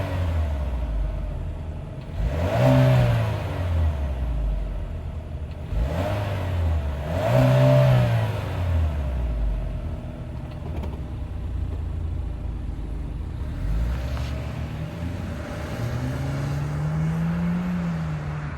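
A 2022 Chevy Malibu LT's 1.5-liter Ecotec turbo four-cylinder idles, then revs sharply several times, each rev climbing and dropping back, heard close from behind the car with no talk.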